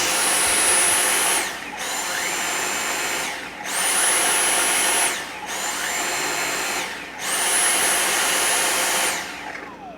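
A Dyson V6 Animal cordless vacuum, repaired and converted to run on a DeWalt battery, whines loudly and steadily in repeated bursts, dipping briefly about every two seconds. No one speaks.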